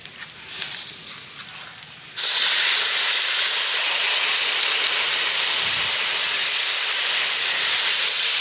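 Tamarind water poured into a simmering fish curry in a village outdoor kitchen sets off a loud, steady steam hiss that jumps in after a brief quieter start and holds at close range to the end.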